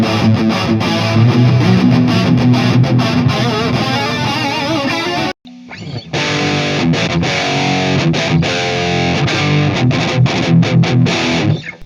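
Electric guitar played through a $45 mini amp on a thrash-style factory preset gives loud, heavily distorted riffing with palm-muted chugs and a brief break midway before the riff resumes.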